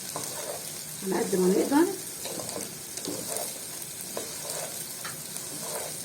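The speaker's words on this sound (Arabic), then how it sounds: "ونقلب كده وافضل اشوح المكرونة دي شوية" Pasta being stirred and sautéed with salt, cumin, ground coriander and a stock cube in a single pot, with a steady sizzle, scraping stir strokes throughout and someone speaking briefly over it.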